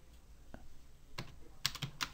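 Quiet keystrokes tap on a computer keyboard, a few scattered clicks followed by a quicker cluster near the end, close and soft with no talking.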